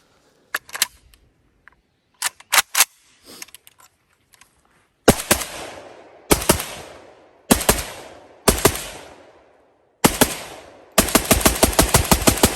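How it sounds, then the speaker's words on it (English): An AK rifle with an adjustable gas piston fires several sharp shots at a slow cyclic rate, with single shots and short bursts followed by a final longer burst, loud and close, with handling clicks between the strings. "does it feel good to shoot with that adjustable gas piston in there"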